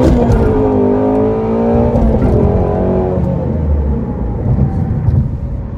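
A Shelby GT350 sports car engine revs and roars loudly, its pitch rising and falling as it accelerates, close and continuous throughout.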